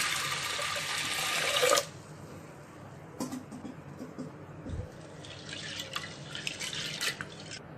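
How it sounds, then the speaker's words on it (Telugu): Chana dal being washed in water inside a pressure cooker: a loud, steady rush of pouring water at first, then quieter sloshing and dripping. "వాటర్ వేసుకొని వాష్ చేసుకోవాలి."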